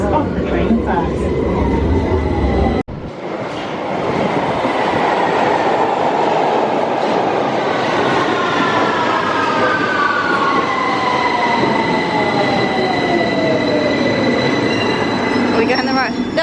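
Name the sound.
train arriving at a station platform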